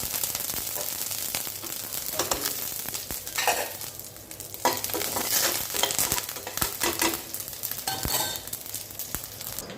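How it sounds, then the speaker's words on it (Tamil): Mustard seeds, cumin and curry leaves crackle and sizzle in hot ghee for a Tamil-style mint rice, a steady close frying hiss with scattered sharp pops and occasional stirring scrapes, no voices. "இப்போ நெய் விட்டுருக்காங்க கடுகு சீரகம் கருவேப்பிலை"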